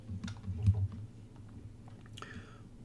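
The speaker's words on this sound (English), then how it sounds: "I'll type that in real fast" Fast typing on a computer keyboard, a run of light, close clicks at a brisk pace over a low background hum.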